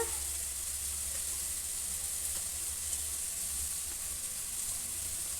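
Chopped tomatoes with chili powder sizzle and fry steadily in a pan for a potato-tomato curry, a constant close hiss with no talking.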